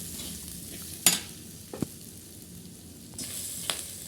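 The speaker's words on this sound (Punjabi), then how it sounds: "ਵਧੀਆ ਜਿਹਾ ਪਿਆਜ਼ ਭੁੱਜ ਗਏ ਨੇ ਸਾਡੇ" Onions frying in a pan for a bitter gourd (karela) dish, with a steady soft sizzle and a few sharp scraping stirs of a spatula, no voices.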